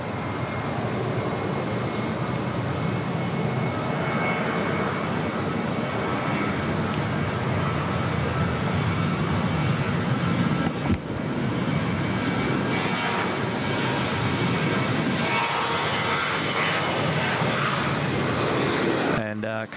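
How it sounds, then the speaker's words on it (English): A Boeing 737-800 jet departs Gold Coast airport on a flight to Melbourne, its engines a loud, sustained roar that holds steady for the whole stretch while people talk over it. "So Velocity 730 is now the Gold Coast flight to Melbourne, the Boeing 737-800."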